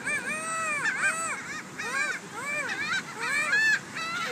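Seagulls call loudly and close by in a run of harsh, rising and falling squawks, several cries following one another in quick succession over a few seconds.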